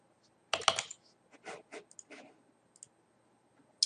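Someone types on a computer keyboard in a quiet room, a short burst of close, crisp key clicks in small irregular clusters, trailing off into a few isolated taps.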